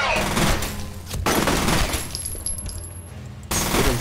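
Rapid bursts of gunfire in the shooter game F.E.A.R., loud sharp volleys that break off briefly and resume, with a player shouting excitedly over the shots.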